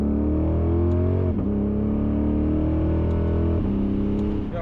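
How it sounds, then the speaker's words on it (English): A Lexus GS-F or RC-F V8 engine revs loud and close, its pitch climbing steadily and then dropping sharply at two quick short upshifts, with no talking. "even if you just do some short shifts,"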